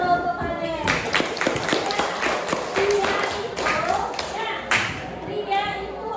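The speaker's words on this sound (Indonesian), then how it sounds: "Tepuk tangan dulu untuk kalian." Classroom of children clapping in a scattered burst of applause, close and lively, with a teacher and kids talking over and around the claps.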